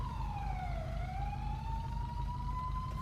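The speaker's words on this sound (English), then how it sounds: "I hear sirens" A wailing police siren in a GTA roleplay city street, one continuous sweeping tone that dips and rises, steady and fairly close, with no talk over it.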